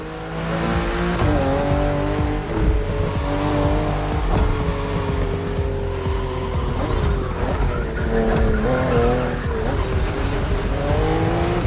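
BMW M2 and M4 cars racing on a narrow, winding track full of sharp bends, with loud engines revving up and down through the gears and tyres squealing in the corners, continuous and close.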